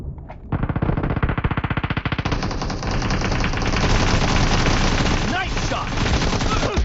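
Rapid automatic gunfire from a shooter video game, a dense sustained stream of shots that starts sharply, runs loud and continuous, then blurs into a steady roar of repeated fire.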